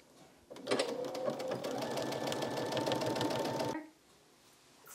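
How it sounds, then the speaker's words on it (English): Sewing machine stitching a quilt-as-you-go tulip block, a fast steady mechanical rattle close by that starts abruptly, runs for about three seconds and stops, with no talk. "and sew from dot to dot."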